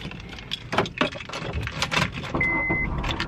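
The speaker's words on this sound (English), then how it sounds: "So I'm gonna start my car." A car engine starts up from inside the vehicle amid close handling clatter, followed by a steady high electronic chime. The noises come in quick bursts before the engine settles into a continuous hum.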